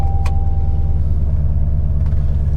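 A 1990 Chevrolet Corvette ZR1 with a six-speed manual runs steadily after starting, a loud close low engine rumble with even throb and no talk.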